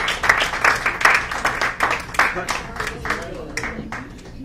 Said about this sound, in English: Please clap some more.